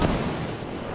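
Artillery fire in a video game: a single heavy, close boom with a long rumbling tail, loud and alone.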